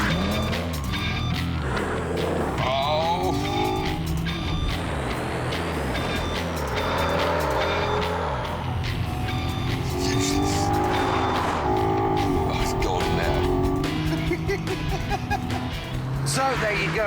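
A BMW and an Audi TT accelerate hard on a dry test track, engines revving through the gears with tire noise, continuous and fairly close throughout.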